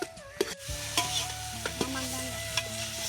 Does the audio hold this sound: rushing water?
no